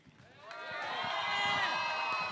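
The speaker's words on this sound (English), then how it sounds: "Give your warmest, your biggest and loudest round of applause" An audience at an MPL Singapore esports event cheers and applauds Team Flash, the noise swelling quickly into loud, sustained clapping and whoops.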